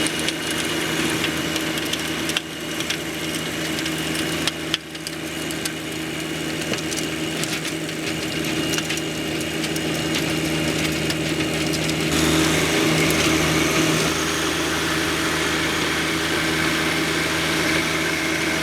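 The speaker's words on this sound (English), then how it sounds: "Back with the tiller to put those organics back in the ground." A garden tiller churns a buckwheat cover crop back into the soil, its engine droning steadily and loudly up close throughout, with a brief lull and then a heavier, grinding load toward the end.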